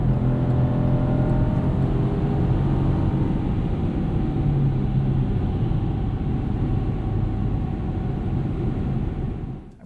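A 2021 Chevrolet Colorado ZR2 pickup being hustled along a back road, with a steady, loud engine and road rumble from inside the cab, holding a constant drone throughout with no one speaking.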